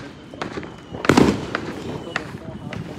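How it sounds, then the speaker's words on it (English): Neighborhood fireworks popping at a distance, a few faint crackles and one louder burst, under nearby voices talking. "Yeah, good old fireworks."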